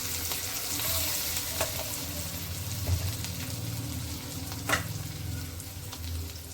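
Ginger garlic paste and ground spices crackle in hot oil in a pan for aloo samosa filling, a continuous near sizzle with occasional stirring knocks and scrapes and no voices.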